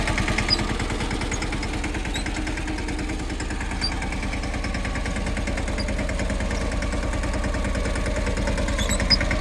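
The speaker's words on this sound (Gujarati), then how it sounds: "અને ટ્રેક્ટરમાં ડગરા ફિટ કરેલા છે" A tractor engine runs steadily while pulling a disc harrow with a balloon roller through a field, a continuous low chugging throb with a regular pulse, close and loud throughout without pause.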